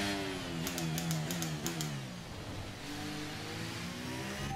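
F1 car from the racing game F1 23 sliding with no grip, its engine whining in rising and falling harmonic tones, loud and close, with a few sharp ticks early on.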